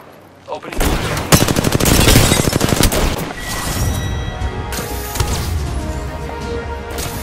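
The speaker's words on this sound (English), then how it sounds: "The enemies are shooting at me." Enemy gunfire in a fast Apex Legends firefight: dense, loud automatic bursts and rapid shots roll on almost without pause, with impacts and crashes mixed in and game voice lines under the noise.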